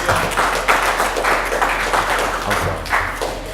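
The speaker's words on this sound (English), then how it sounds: "Give a round of applause." A crowd at a book release event claps and applauds steadily, with bursts of louder clapping swelling every second or so, dense and close.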